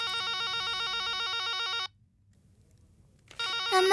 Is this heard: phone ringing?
yes